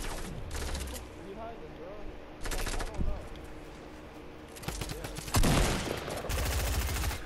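Rapid bursts of submachine gun fire in the video game Fortnite, loud and close, coming in several clusters amid game effects, with players talking over them.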